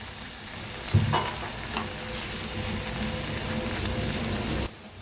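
A heap of fenugreek leaves stir-fried in a kadai, a soft sizzle with scraping and rustling as the greens are tossed, a clack of the spatula near the start, stopping abruptly just before the end.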